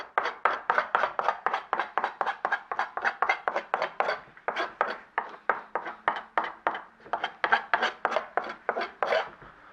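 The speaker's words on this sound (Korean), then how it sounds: "껍질을 바르게 구겨짐이 하나도 없이 모두 펴셔야 됩니다. 그래서 칼 등으로 그대로 밀어서 도마에다 붙여주시면 됩니다" A knife back is pushed repeatedly across pufferfish skin to press it flat against a cutting board, giving a steady run of short raspy scraping strokes, close and fairly quiet, with no talk.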